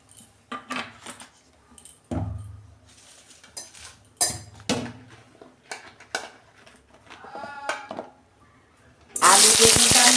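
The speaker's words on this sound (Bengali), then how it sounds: "আলু বেগুনটা আমি ভেজে নেব।" Clinking of a metal spoon and pots as potato and eggplant pieces are readied for frying in oil in a wok, then a sudden loud, steady sizzle bursts up for the final second.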